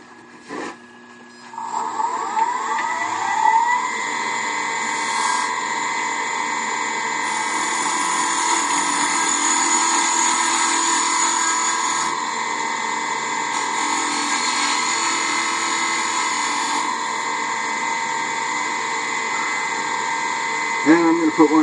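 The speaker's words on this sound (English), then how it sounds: "I'm going to turn a tenon on this end." Mahogany box being turned on a wood lathe to cut a tenon, a loud steady motor whine with tonal humming and a rougher cutting hiss as the tool works the wood, starting after a brief quiet opening.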